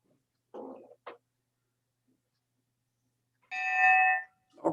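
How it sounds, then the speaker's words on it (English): A bell rings once in a Zoom club meeting, a short bright electronic tone after a few faint scattered noises, heard clearly against near silence. "We got an actual sound with the bell."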